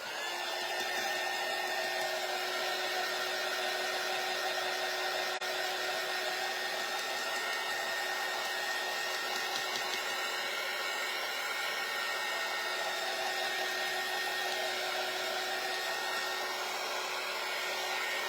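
A hair dryer blows steadily on a farmhouse Christmas tree craft from a kit, a loud, continuous whooshing drone held close for the whole stretch with no talk.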